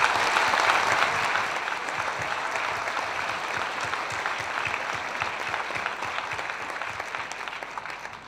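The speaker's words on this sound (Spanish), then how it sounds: "y que merece un aplauso" Steady, dense applause from a conference audience at the opening of the XXIX ALAS Congress in Chile in 2013, honoring the congress executive secretary, sustained at even loudness and easing slightly toward the end.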